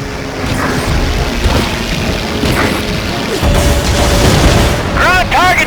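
Explosions from bombing ground targets in Heroes of the Pacific, set at the Marshall Islands, roll as loud repeated booms and crashes over constant aircraft engine drone, with a radio voice speaking through the din.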